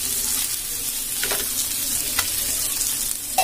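Fish frying in hot oil on a stove for a crispy fish fry, a steady bright sizzle and crackle throughout with a few louder pops and stirring sounds.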